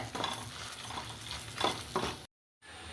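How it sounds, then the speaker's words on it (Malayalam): Dry red chillies roast in a pan while being stirred until they darken, giving close scraping and rustling stir sounds over a soft sizzle before a short silent gap. "അപ്പം ഇതൊന്ന് കളറ് മാറണ വരെ വറുക്കണം ചെറുതായിട്ടൊരു കറുപ്പ് കളറായിക്കോട്ടെ"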